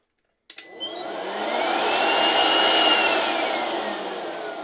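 A Parkside 20V cordless leaf blower fitted with its thin nozzle spins up after a click and settles into a loud, steady high-pitched whoosh with a rising whine, running alone without talk.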